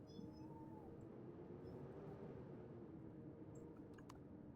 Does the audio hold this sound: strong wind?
no